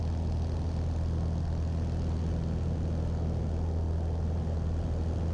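Steady, loud drone of a light aircraft's 160 horsepower Lycoming propeller engine running continuously, with a deep low rumble and no pauses.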